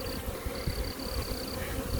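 A honeybee swarm caught at head height buzzes in a dense continuous hum, with bees fanning and individual bees whining past close by.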